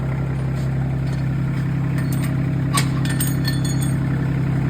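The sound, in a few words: tractor engine running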